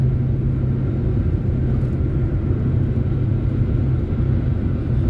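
A Nissan car overtakes on a toll road at around 100 km/h, heard as a steady, loud low rumble of road and engine noise throughout.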